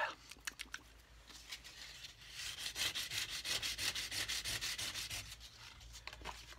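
Sandpaper rubbed by hand along a wooden cigar box guitar neck, a fast rhythmic back-and-forth rasp of strokes that starts sparse and builds into a steady, close run of scratchy passes.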